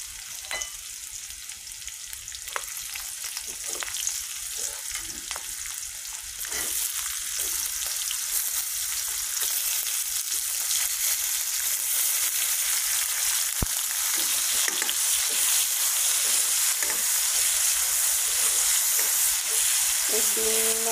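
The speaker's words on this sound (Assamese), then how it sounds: "এক 2 মিনিটমান পিঁয়াজখিনি ভালদৰে এনেকৈ ভাজি ল'ব" Onions fry in oil in a pan with a steady crackling sizzle, rising louder partway through, dotted with occasional stirring clicks and no talk.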